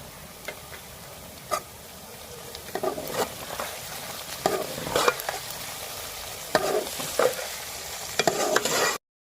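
Green chillies and garlic-ginger paste fry in ghee for chicken karahi, a soft continuous sizzle broken by repeated scrapes and clinks of a spoon stirring in the pan, close up and getting busier toward the end.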